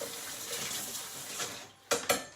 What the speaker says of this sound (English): And then give it a nice rinse